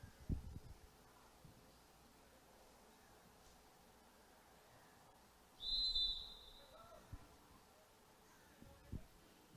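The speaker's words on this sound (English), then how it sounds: "Referee Paul Burke blowing the whistle there, trying to get the game ready to go" At a Gaelic football match between Wicklow and Kildare, a referee gives a single short, shrill whistle blast from a distance. Quiet ambient crowd and field noise surround it.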